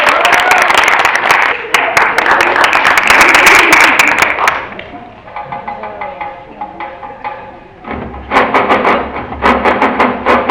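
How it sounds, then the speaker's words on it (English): An audience at a university cultural day event claps loudly in a dense burst, fades to a quieter stretch with faint voices and tones, then breaks into a second strong round of applause. "A big round of applause for Max Maget."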